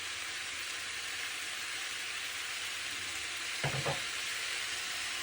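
Chilli sauce and soy sauce being stirred into octopus frying in a pan, a steady broad hiss with a brief pair of scraping stirs near the end, no talk.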